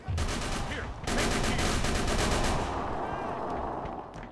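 Rapid bursts of gunfire and cannon rattle continuously, with heavy booming shots mixed in, loud and dense throughout, in a video game.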